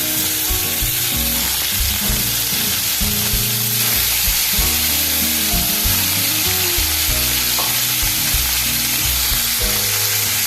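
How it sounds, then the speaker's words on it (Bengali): Loud, continuous sizzling of fish frying in hot oil in a wok, close up, with occasional stirring scrapes beneath the hiss. "এবার এখানে আমি মাছগুলো হালকা করে ভেজে নেব"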